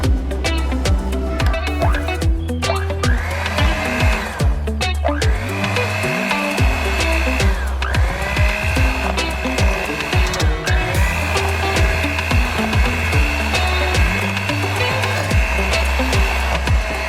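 An electric mixer slowly mixing cookie dough for homemade M&M cookies, a steady whirring motor hum with rhythmic rising-falling sweeps, continuous and fairly loud over light background music.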